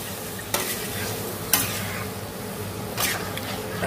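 Chicken posto curry with green chili being stirred in a pan, three sharp scraping strokes over a steady close sizzle, no talking.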